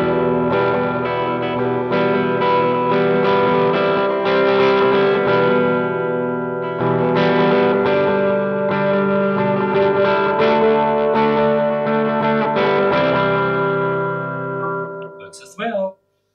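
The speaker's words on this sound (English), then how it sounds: "switch on the delay." Electric guitar with a delay effect engaged, run through a pedalboard into two amps, chords ringing out with sustained harmonic tones and repeats for about fifteen seconds before stopping abruptly.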